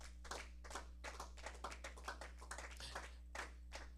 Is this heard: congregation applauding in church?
yes